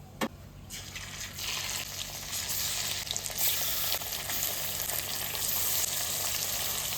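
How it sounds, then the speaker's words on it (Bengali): Hilsa pieces laid into hot mustard oil in a kadai tempered with nigella seeds set off a loud, dense, continuous sizzle after a sharp initial clink. It sounds close and steady, with no talk. "এবার আমি মাছ তেলটা বেশি গরম হওয়ার আগে আমি মাছটা দিয়ে দেবো এক এক করে"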